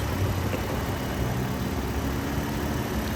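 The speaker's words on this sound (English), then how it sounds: "the engine is quiet as a mouse." A 2016 Toyota 4Runner SR5 engine idles with a steady, low, even hum, a smooth and quiet running sound with no revving, heard alone at a close distance.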